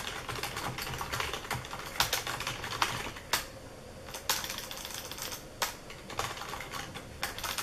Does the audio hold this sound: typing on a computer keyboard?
yes